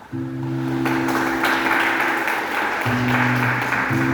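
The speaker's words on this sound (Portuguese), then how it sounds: "Vamos aplaudir Jesus" A church congregation breaks into applause for Jesus, a sustained wash of clapping under steady sustained keyboard or organ chords that drop out briefly and return.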